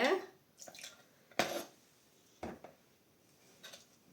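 Water poured into a mango chutney mixture in a grinder jar before blending, a few short splashy bursts separated by pauses, close and fairly quiet.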